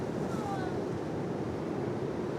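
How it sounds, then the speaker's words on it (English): Waves breaking on a shallow beach at Redcar, a steady broad wash of surf with wind noise, continuous and fairly faint. "you can see kind of how shallow the water is by the number of breaking waves there are"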